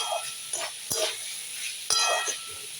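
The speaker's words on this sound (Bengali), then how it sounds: "দেখো ছোলা আর কোয়াশটা একটু ভালো করে ভেজে ভেজে দিচ্ছি।" Chickpeas and squash frying in a pan, a soft hiss with a few sharp scrapes and stirring clatters at irregular intervals, close and fairly quiet, without talking.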